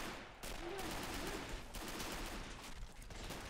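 A Volkssturm squad fires rifles in a WWII video game battle for Argentan, a dense, loud crackle of overlapping shots sustained throughout with no clear gaps.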